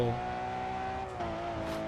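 Race car in the Grid 2 video game accelerating with a sustained, tonal engine whine that shifts pitch as it climbs through gears, with faint tire noise underneath and no talk.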